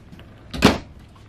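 A cabinet door in the kitchen of a 2021 Jayco Redhawk 24B RV opens with one short, close knock-like clunk that fades quickly in a quiet interior.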